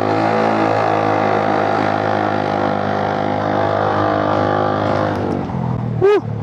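A Honda Giorno 125 scooter fitted with an upgraded CVT set pulls away under hard throttle, its engine droning loudly and steadily for several seconds before easing off; a brief chirp sounds near the end.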